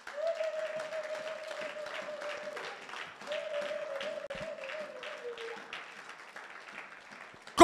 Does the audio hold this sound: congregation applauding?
yes